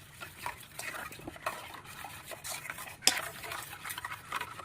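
Dried red chili, cinnamon, cardamom and cloves being mixed together in a bowl for steamed eggs: soft, close scraping and stirring with light utensil clinks, one sharper knock near the middle, no talk.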